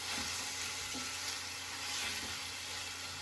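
Chopped tomatoes cook for Indian ginger cardamom rice, filling the pan with a constant, broad close-up sizzle that holds steady throughout, broken only by a few soft stirring bumps.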